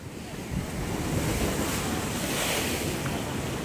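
Strong waves surge and splash nearby in a steady roar of water, mixed with heavy wind buffeting the microphone.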